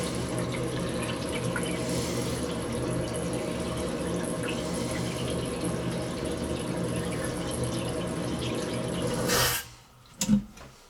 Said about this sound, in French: je vais mettre un peu d'eau pour vérifier l'étanchéité